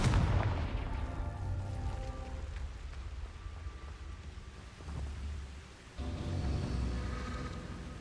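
A fiery blast from the Confringo spell in Hogwarts Legacy bursts loud at the start and rumbles away, followed by a lower booming impact a few seconds later.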